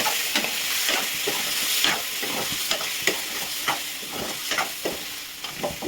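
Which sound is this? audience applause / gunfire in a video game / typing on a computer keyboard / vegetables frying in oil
vegetables frying in oil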